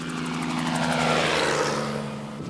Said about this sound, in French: Le moment est venu de semer de l'herbe par hélicoptère.